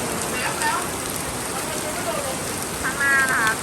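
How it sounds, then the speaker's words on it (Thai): Heavy rain pouring during a sudden storm in a village in Suphan Buri, Thailand, a steady dense hiss throughout with brief faint tones over it. "ฝนตกหนัก"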